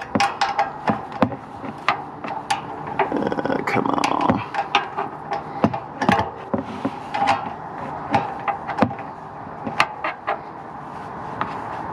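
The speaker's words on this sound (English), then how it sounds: "all I have to do is tighten down these bolts here" Bolts on a BMW F30 340i exhaust valve are tightened with a wrench, giving repeated sharp metallic clicks and ratcheting taps in an uneven rhythm, close up.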